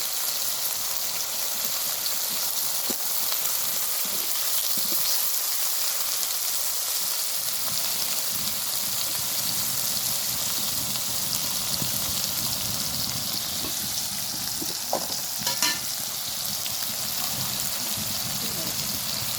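Potatoes fry in a separate pan, a steady soft sizzling hiss that runs the whole time, with a few light clinks and a voice talking over it.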